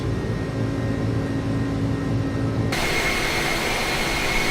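Airbus A300 jet engines in Microsoft Flight Simulator, a loud steady roar with a whining tone that jumps brighter and louder partway through, heard alone without talk.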